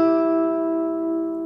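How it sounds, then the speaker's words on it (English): On a guitar, a picked note sustains with a steady tone while an unmuted neighbouring string rings along beside it, both slowly fading, close and clear with no talking. "Where you can hear that other string ringing out a little bit."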